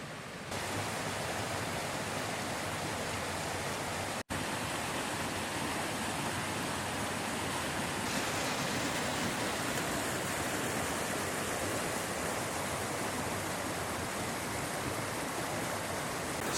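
A river on Dartmoor rushes steadily beside a woodland path, a dense, continuous wash of flowing water that stays loud and even throughout with no voices.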